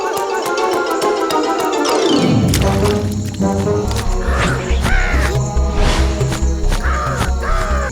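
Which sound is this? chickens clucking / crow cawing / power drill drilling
crow cawing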